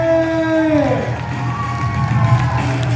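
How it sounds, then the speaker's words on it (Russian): A crowd cheers and applauds at a children's short film festival awards ceremony as the best editor winner is announced, a sliding whoop rising over steady clapping and shouting, with voices in the crowd. "Аплодисменты!"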